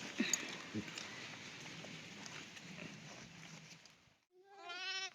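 After a stretch of quiet outdoor rustling in cool hill country, a single clear sheep bleat rings out near the end, close and fairly loud.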